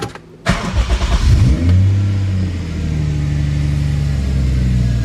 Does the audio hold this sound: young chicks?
no